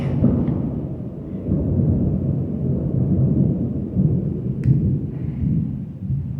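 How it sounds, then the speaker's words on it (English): Low, continuous rumble of thunder during a rainy spell in Malaysia, rolling steadily for several seconds at moderate loudness with no talking over it. "Do you hear the thunder?"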